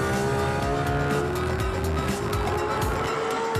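A sports car with carbon ceramic brakes slows hard on a race track. A loud, continuous engine roar mixes with a thin tire squeal, all close to the car.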